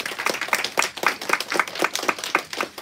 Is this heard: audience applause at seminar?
yes